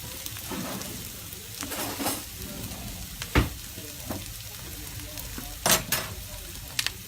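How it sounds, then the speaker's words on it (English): Garlic starting to cook in a pan for a pork fillet sauce, a steady hissing sizzle broken by a few sharp clacks and scrapes of a utensil, close up with no talk. "All we want to do is just start to cook that garlic."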